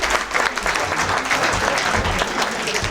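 A big round of applause from a live show audience, dense and loud clapping that carries steadily throughout with no voices rising above it.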